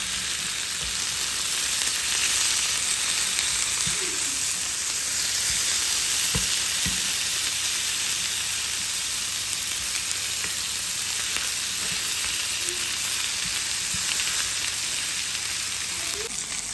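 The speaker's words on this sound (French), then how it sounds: "ici on est sur un feu vif, donc on veut faire cuire cette viande rapidement" Lamb chops sear in a pan over high heat with a steady, loud sizzle that holds throughout, and a few faint clinks and pops rise from the pan.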